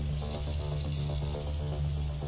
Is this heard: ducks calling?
no